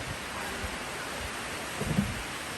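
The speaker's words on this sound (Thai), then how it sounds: "ฝนก็มาแรงครับ มาแรง" Heavy rain pours down steadily outdoors at a workplace yard in Ubon Ratchathani, a dense, even hiss of downpour filling the scene with a slight swell near the end.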